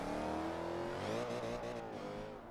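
Mercedes C63 AMG engine in the Forza 5 racing game, holding a loud, sustained rev with a rising, straining tone under throttle during a drift on a test track, alone with no speech.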